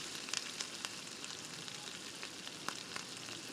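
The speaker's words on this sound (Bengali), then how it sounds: "আর আমি এখানে তো অল্প তেলে ভাজছি, সেহেতু লো ফ্লেমে ভাজাটাই ভালো" Khesari lentil fritters fry in a little oil over a low flame, giving a quiet, continuous sizzle dotted with small sharp crackles and pops.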